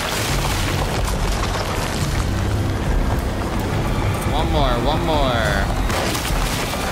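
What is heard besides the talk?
gunshots at growths in video game Alone in the Dark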